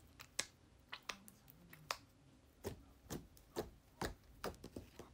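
Pink-and-white foaming slime squeezed and stretched in the hands, giving off a scattered series of small, sharp pops and crackles, faint and close, irregular at first and coming faster toward the end.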